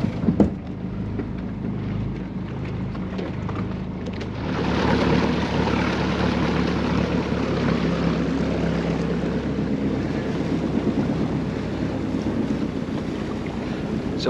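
A boat with a motor of about 6 horsepower running at sea during a drift dive off Guernsey, a steady drone that swells louder partway through, mixed with rushing wind buffeting the microphone and water noise.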